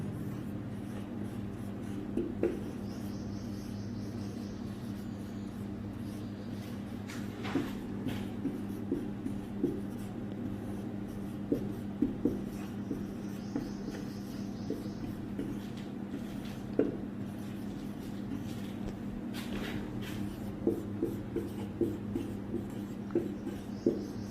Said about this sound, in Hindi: लिख लेते हैं।